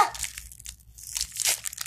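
Plastic toy packaging of an LOL Surprise Under Wraps doll crinkles and tears close up, in short bursts of ripping and crumpling with a brief pause in the middle.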